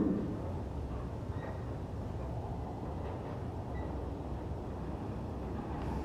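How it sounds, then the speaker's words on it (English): A 5-car 3-door Red Line Richmond train approaching platform 2, a steady low rumble and rolling roar that holds constant, moderately loud, with no voices. "5-car 3-door Richmond train now approaching platform 2."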